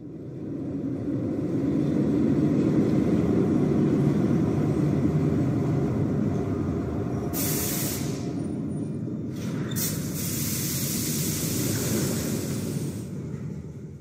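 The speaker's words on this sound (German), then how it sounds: "Die U-Bahn kommt und alle steigen ein." A subway train arriving, staged as an effect in an audio drama: a steady low rumble swells over the first seconds and holds, with brief hissing bursts near the end as it draws in, no talk.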